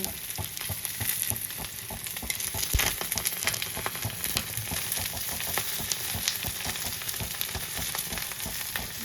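Fish paturi parcels of bhetki fillets wrapped in leaves fry in a pan, giving a loud, steady oil sizzle with scattered pops and crackles as the parcels are flipped one by one.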